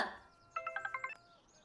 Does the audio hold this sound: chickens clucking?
no